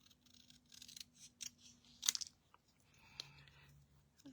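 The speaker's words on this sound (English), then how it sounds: "And we're going to trim that up so it looks better." Scissors trim a paper ATC card, giving several short, close, quiet snipping and crunching cuts in an otherwise quiet room.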